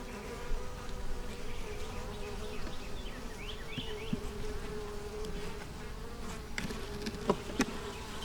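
Honeybees buzzing steadily around an opened hive frame holding honey, pollen and nectar, a soft continuous hum with occasional nearby rustles and knocks.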